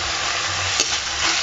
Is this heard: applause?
no